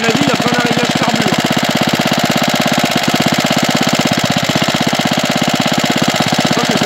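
A Bernard W19A stationary engine runs loud and close, its fast, even chugging beat steady for the whole stretch, and a voice can be heard faintly beneath it.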